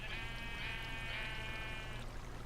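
A sheep in a video game bleats in a long wavering cry over a constant low hum, with a second bleat tagging on before it fades out.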